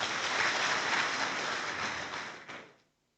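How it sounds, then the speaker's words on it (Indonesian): Audience applause at a West Papua Golkar party inauguration ceremony, a dense burst of many hands clapping that holds steady, then thins and fades out over the last second. "Iya, tepuk tangan untuk kita semua."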